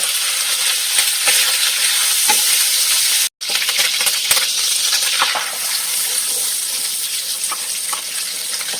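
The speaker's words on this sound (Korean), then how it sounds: "오리를 볶고 남은 기름으로 스크램블을 만들 거예요" Eggs are scrambled in leftover duck fat in a hot pan, giving a loud, continuous sizzle with scattered spatula scrapes and a brief silent break in the middle.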